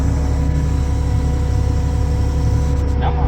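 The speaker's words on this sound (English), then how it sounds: "Come on, tractor." A tractor engine pulling a corn chopper during harvest hums and throbs steadily and loudly with a heavy low rumble, and a voice speaks briefly over it.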